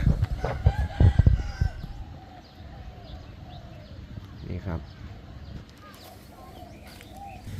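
A decoy jungle fowl crows loudly nearby, then further crowing and clucking follow at a distance, mixed with some background voices.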